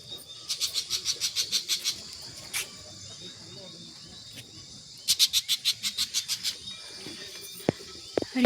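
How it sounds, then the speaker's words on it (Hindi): Birds calling in the evening outdoors under a cloudy sky, in repeated bursts of rapid, high chirping trills, one run early and another later, with short single calls and faint background ambience between them. "और यहाँ पे चिड़िया की आवाज़ आ रही है।"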